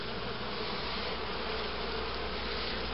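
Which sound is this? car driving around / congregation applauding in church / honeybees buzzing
honeybees buzzing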